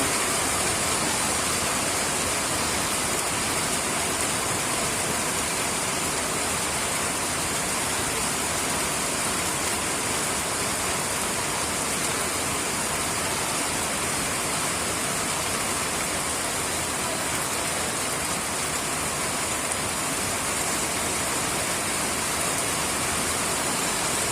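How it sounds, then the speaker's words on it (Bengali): Heavy rain pours down without letup in a steady, dense roar, with no voices over it. "প্রচুর বৃষ্টি হইতেছে"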